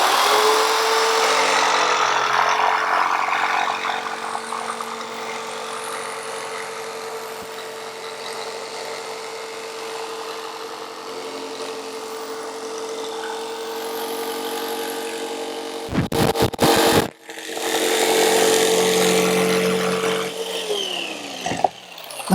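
A jigsaw running through a cut guided by a DIY jig, with a steady, loud motor whine sustained for a long stretch, briefly stopping and restarting near the end, with no speech.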